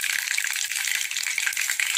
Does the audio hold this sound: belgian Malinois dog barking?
no